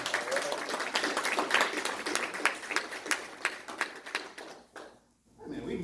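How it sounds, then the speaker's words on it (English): Audience clapping at a marketing talk, a dense patter of many hands close by that thins out and stops near the end. "Man, we can do better than that on applause."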